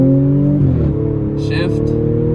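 A modified supercharged Audi S4 pulls hard at full throttle, its loud in-cabin engine note rising then dipping as it shifts, with a brief supercharger whine and a short burst of voice over the drone.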